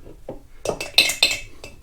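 A tablespoon is lifted from a container of applesauce, giving a few short bright metallic clinks against the jar in close succession, quiet and without talking.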